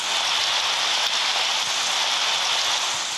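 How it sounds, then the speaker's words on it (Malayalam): Steady heavy rain patters on surfaces in a video game, a dense unbroken hiss with no voices. "കയറിയപ്പോൾ തന്നെ മഴ പെയ്യും"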